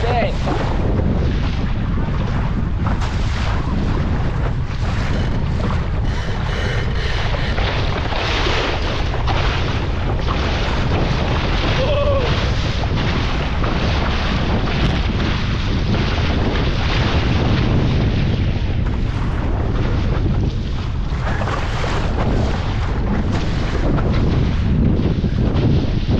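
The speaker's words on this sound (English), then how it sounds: "She's a windy one today." Strong wind roars continuously against the microphone while a Laser dinghy sails on Glendale lake in stormy, high-wind conditions, with water noise beneath and faint voices at times.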